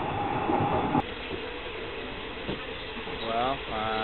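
Inside a passenger train running from Kuala Lumpur to Bangkok, a steady low rumble of the carriage hums under a voice, with occasional knocks and a soft rattle.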